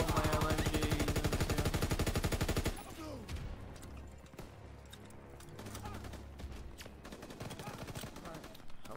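Rapid, loud automatic machine gun fire in a World War II shooter game rattles for the first three seconds, then gives way to a dense, chaotic battle din of distant shots and explosions.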